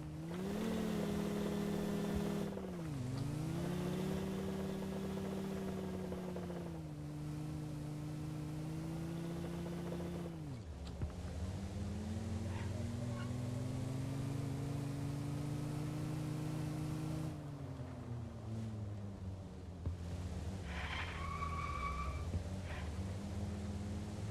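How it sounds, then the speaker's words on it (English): Steady mid-pitched car engine in a Cold War era military logistics video game, revving and dipping as the vehicle drifts and slides, continuous and fairly loud with pitch swings, a whining tone near the end. "You can drift quite nicely with the vehicle"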